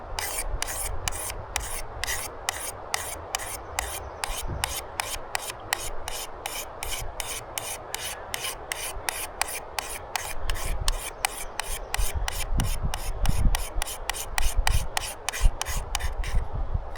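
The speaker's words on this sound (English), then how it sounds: "we are running the blade across it more" A knife blade drawn repeatedly across the fine grit side of a whetstone, light pressure giving soft, steady rasping strokes in an even rhythm, quiet and close with no talking.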